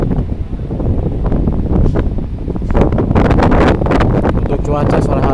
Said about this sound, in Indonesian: Untuk cuaca sore hari ini anginnya masih kencang banget